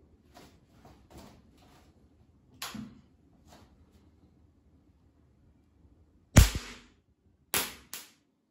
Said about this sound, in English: just put another target in front of our coil gun and test on it